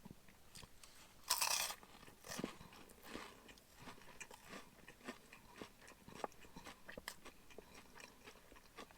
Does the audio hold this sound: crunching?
yes